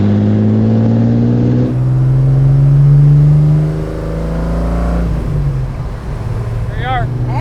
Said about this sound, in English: Let's go drive this car.